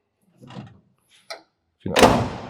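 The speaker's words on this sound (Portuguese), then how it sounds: "A porta está fechando como geladeira" A Buick car door, restored before fitting, swings and shuts with a solid, heavy thud after a few lighter handling clicks, the slam loud and close.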